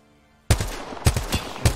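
Paired gunshots from a gold G7 Scout rifle with double tap in a video game, loud sharp cracks coming in quick pairs after a brief silence.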